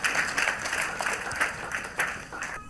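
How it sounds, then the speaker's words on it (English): A church congregation claps for Jesus Christ during a healing service, with a moderately loud, continuous patter of many hands and a few sharper accents and no voices over it. "Clap for Jesus Christ."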